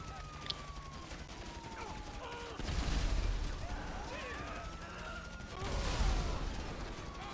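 Gunfire in the GTA V Online video game, with bursts of rapid shots and mechanical clatter over busy game sound, two louder swells, and some faint talk mixed in.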